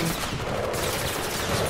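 Dense bursts of gunfire from the video game Mirror's Edge Catalyst, loud and continuous, with rapid overlapping shots forming a sustained barrage.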